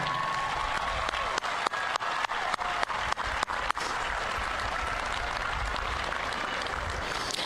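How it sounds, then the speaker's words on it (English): Applause at a university spring commencement ceremony, a broad sustained crowd clapping with a run of sharp, louder individual claps standing out near the front partway through. "offer a round of applause for all of the family, friends, and supporters that helped them along the way"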